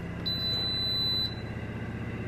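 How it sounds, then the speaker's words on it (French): A kitchen appliance just switched on gives one sustained high electronic beep lasting about a second over a low steady hum, then the hum continues alone. "Et là, on attend que ça bip."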